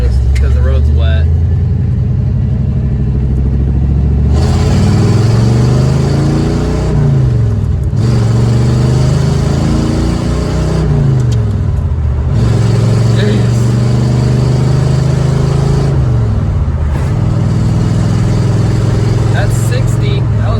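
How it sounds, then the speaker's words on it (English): A Ford Mustang engine climbs through the revs at about half throttle on a wet road, rising pitch sweeps broken by gear-change dips, steady and loud close by, with someone talking over it. "I'm going to give it a little throttle, about half gas when we get on the road"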